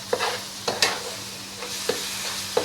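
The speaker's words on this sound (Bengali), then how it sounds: "মশলাটা কিন্তু এইভাবেই কষা হবে" Spice masala stirred and fried in oil for a Bengali-style chicken roast gravy, a spatula scraping the pan in irregular strokes over a soft, steady sizzle, close and moderately loud with no talking.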